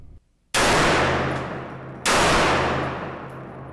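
A Kimber Micro380 pistol that is fussy about ammunition fires two loud, close shots about a second and a half apart, each followed by a long ringing decay outdoors.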